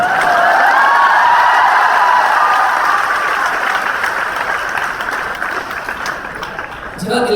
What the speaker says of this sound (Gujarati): એમને પણ જોરદાર તાળીઓથી આપણે વધાવીએ છીએ